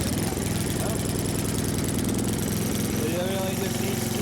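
Small engine on a cheap, previously broken wood splitter running after a start, a steady loud putter with a fast even pulse, while people talk over it.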